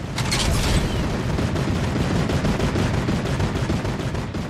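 Rapid gunfire crackles in the video game Fortnite, a dense run of sharp shots in quick succession, loud and continuous for several seconds without speech.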